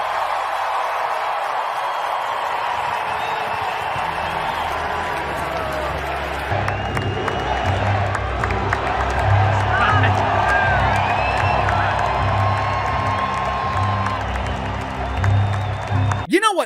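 A road crowd in Pittsburgh reacts to hockey player Jack Hughes with a broad, sustained roar of cheering and clapping at arena distance, mixed with voices and some talk, ending with a brief burst.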